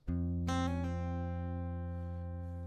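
Acoustic guitar notes sound alone up close: a plucked tone followed by a few quick hammer-on and pull-off changes, ringing on and slowly fading.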